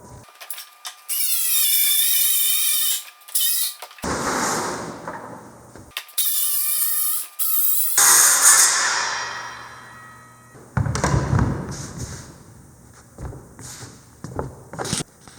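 A power saw cuts through wood while a ramp is rebuilt, with loud whining bursts separated by short pauses and then rougher grinding and clattering, heard up close with no talking.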